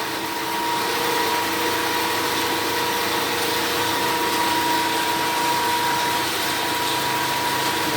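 A DC shunt motor runs steadily at about 1600 RPM on a lab bench, giving a loud, continuous hum with a constant whine and no voices over it.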